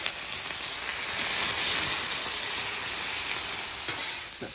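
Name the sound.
onion and bell pepper sizzling in avocado oil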